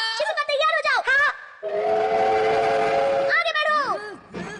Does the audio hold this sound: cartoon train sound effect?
yes